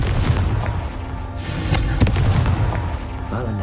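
A Confringo blasting spell explosion in the Hogwarts Legacy video game: a loud, dense booming blast with crackling bursts and rumbling over continuous game noise, with a sharper thump near the middle.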